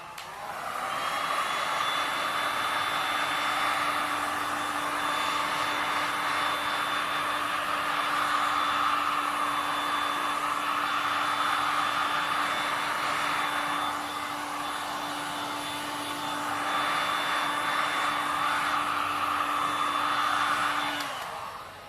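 A heat gun blows steadily onto resin drips, a continuous even whoosh with a faint high whine that swells slightly in places and runs unbroken for over twenty seconds; no voices.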